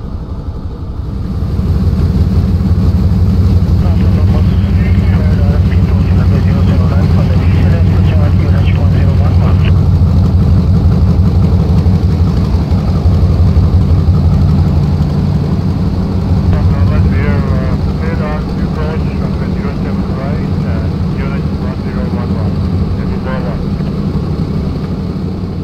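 An AT Simulations AN-2 biplane in Microsoft Flight Simulator taxis on its radial propeller engine, a steady loud low drone running throughout with someone talking over it.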